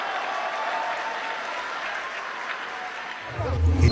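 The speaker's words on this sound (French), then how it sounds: "Et les gens applaudissent." Audience applause at a presidential speech by the president of the Democratic Republic of the Congo, a dense, steady clatter of clapping across a large crowd that swells louder near the end.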